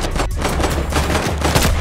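Rapid automatic gunfire in the video game Fortnite rattles continuously, loud and dense, a sustained burst of shots with no pause across the short stretch.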